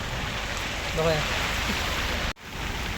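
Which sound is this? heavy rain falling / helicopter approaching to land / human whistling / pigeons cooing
heavy rain falling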